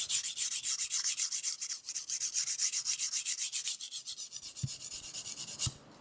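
Knife blade rubbed along a sharpening stone to raise the edge bevel, a close, rhythmic rasping of repeated strokes, roughly three per second, ending with a couple of light taps.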